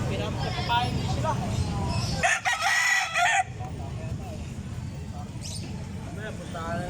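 Roosters crow at a bustling chicken and pigeon market in North Bagong Silang, their calls rising over steady crowd chatter and nearby voices, with one loud burst cutting through midway.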